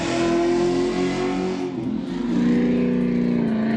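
A restored 1979 Chevrolet C10 pickup engine rumbles loudly and continuously, revving with a low throaty growl that dips briefly, then rises and holds steady, close by.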